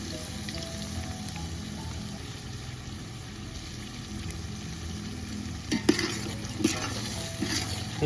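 Yogurt being added and stirred into chicken biryani in a pot over a wood-fired village stove, with a steady low sizzle and bubbling, and a few louder scraping stirs near the end.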